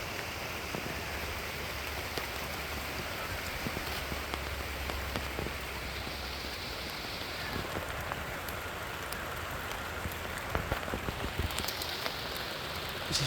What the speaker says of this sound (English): we've been getting a lot of rainy days